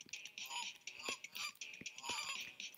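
Geese in the video game Icarus Proudbottom and the Curse of the Chocolate Fountain give faint, repeated honks in quick irregular bursts, low in the mix.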